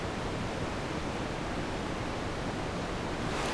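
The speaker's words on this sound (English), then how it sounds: "Pure digital white noise." Flat, steady hiss of digital white noise from a synthesizer, unchanging and continuous from start to finish, fairly quiet.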